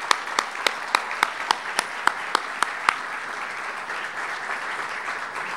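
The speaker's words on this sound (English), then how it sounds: "Please join me in a round of applause for this university." An audience at a university's 50th anniversary celebration claps, a few distinct rhythmic claps at first that melt into a broad, sustained round of applause from a large room.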